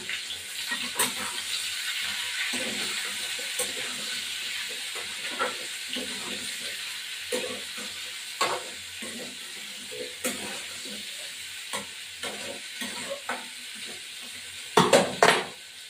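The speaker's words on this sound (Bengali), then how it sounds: "এই যে আলুটা ভাজা হোক, তারপর ফিরে আসছি।" Potatoes frying in oil in a pan sizzle steadily in the background, with repeated light clinks and scrapes of a utensil against the pan and a louder clatter at the very end.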